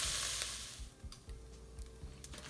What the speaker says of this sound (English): Now we're really starting to get it really crispy now. You can hear that frying.